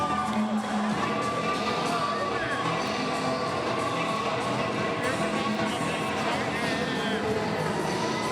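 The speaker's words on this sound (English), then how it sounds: "Got the crowd on their feet" A cage fighting event crowd cheers and shouts continuously in a large venue, a dense roar with whoops rising through it, while an announcer's voice talks over the noise.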